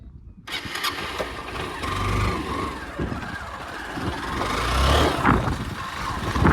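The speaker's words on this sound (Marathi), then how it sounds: "आता जस्ट आपली गाडी चालू करूया" A Honda Unicorn 160 motorcycle engine cranks and catches, then settles into a steady, close idle with a low rumble that grows slightly louder toward the end.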